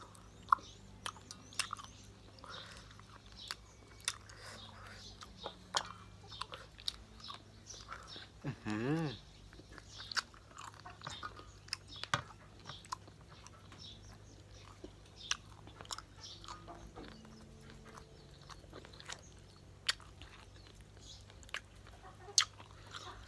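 Close-up eating of spicy Thai papaya salad with fried dried fish and fried beef, a steady run of soft crunches and bites scattered across the whole stretch at low level, with no talking.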